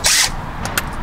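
A power drill drives bolts back in during a budget CarPlay install on a Subaru, giving one short loud whirring burst followed by a couple of faint brief clicks.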